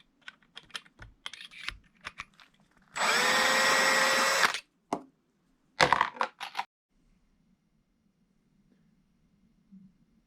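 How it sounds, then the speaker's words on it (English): Flash holes of 6.5 PRC rifle brass being cleared with a flash hole deburring tool, heard as a dense buzzing grind of about a second and a half, then a shorter burst, set among scattered clicks and handling taps. "I'm going to use the flash hole deburring tool to clear out the flash holes"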